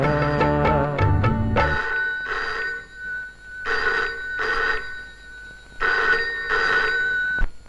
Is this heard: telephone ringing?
yes